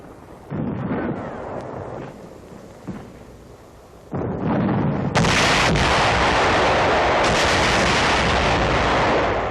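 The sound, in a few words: satchel charge explosions in 1945 combat footage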